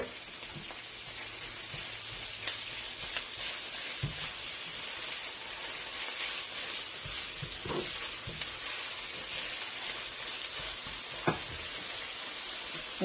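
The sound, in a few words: salted fish sizzling with onions in a pan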